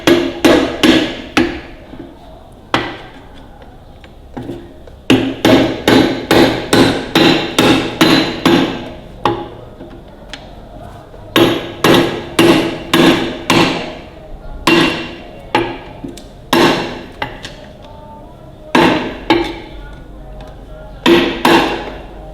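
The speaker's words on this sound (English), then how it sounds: "Just going to get a punch that key out, then that spring will come off" Steel punch struck by a hammer to drive a key out of a Ferguson TEA20 tractor part during repair; loud, close metallic blows in quick bursts of several strikes separated by short pauses, with no talk.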